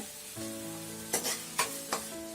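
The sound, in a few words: sautéing tomatoes and curry leaves in a pan for kothu parotta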